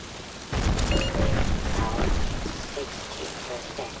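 Steady rain falls in the Black Mesa video game, a broad wash of downpour that starts abruptly and holds at a constant level throughout.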